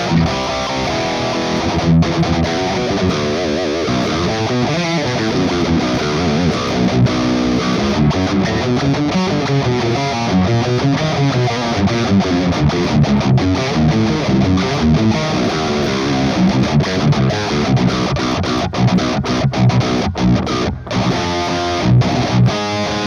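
Electric guitar through a preamp into Mesa Boogie 6L6 power tubes, continuously played with thick, overdriven crunch and rich midrange, loud and steady for over twenty seconds with no talking.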